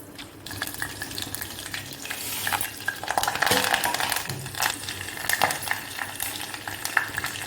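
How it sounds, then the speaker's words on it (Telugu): Garlic fries in hot oil for a tempering, giving a steady close sizzle with stirring scrapes and small clinks throughout, no voices over it. "ఆయిల్ అయితే హీట్ ఎక్కింది ఇప్పుడైతే వెల్లుల్లిపాయలు వేసుకుంటున్నాను"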